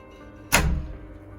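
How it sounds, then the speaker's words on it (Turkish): A door in a video game swings open with a single sharp thump followed by a short rumbling creak that fades, standing alone with no talk over it. "Pembe pembe şemsiyemle kapıyı açayım."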